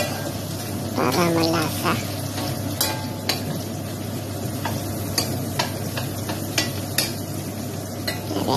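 Onions sizzle steadily in a hot pan while being sautéed for a bottle gourd and pork dish, a constant frying hiss with occasional clicks of a utensil against the pan, and a voice speaking briefly over it.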